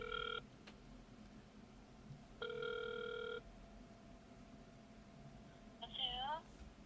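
A telephone ringback tone sounds during an outgoing call, two steady electronic rings separated by a pause and followed by a short warbling chirp, quiet over a low background hum.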